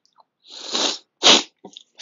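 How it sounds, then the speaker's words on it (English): A single close, loud human sneeze, a breathy inhaling build-up followed by a sharp explosive burst, then a few faint sniffs afterward. "Sorry for sneezing."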